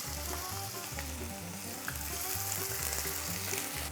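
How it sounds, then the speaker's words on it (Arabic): Chopped onions fry in hot vegetable oil at about 150 degrees, a steady close crackling sizzle with soft rhythmic stirring underneath, alone without any voices. "اول ما يوصل الزيت ل 150 درجه بنزيد البصل اللي برشناه"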